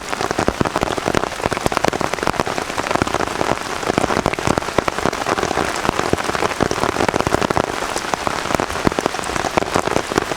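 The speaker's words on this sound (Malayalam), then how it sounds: "മഴ പെയ്യാൻ തുടങ്ങിയല്ലോ." Heavy rain pours down steadily, drops pattering densely on a hard surface, loud and continuous with no voices.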